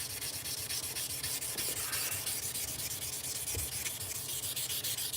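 Steady, continuous scratchy rubbing of fine-grit sandpaper, around 800 to 1,000 grit, worked by hand, a close, even back-and-forth rasp with no voices.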